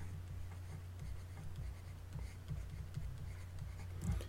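Faint scratching of a pen or pencil writing an equation by hand, with soft irregular strokes close by under a steady low background hum.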